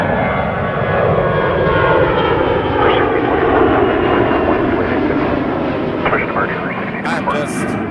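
An airplane takes off from Toronto Pearson with its engines roaring loud and close, a steady heavy rumble that holds throughout with a faint rising whine, and brief clicks near the end.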